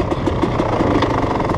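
A motorcycle engine with an auto-clutch gets a quick throttle blip, a steady, loud, rumbling idle with faint periodic pulses and no one talking.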